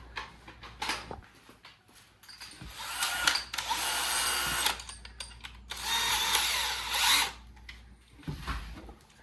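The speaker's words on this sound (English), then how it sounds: "we're going to go ahead and get going on drilling it out" A power drill with a half-inch bit whirs in several bursts, two long sustained runs between shorter starts and stops, loud and close, with no talking.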